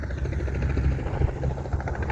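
Aircraft engine starting up at a busy airport, a steady loud low rumble and drone building throughout, continuous with no talk.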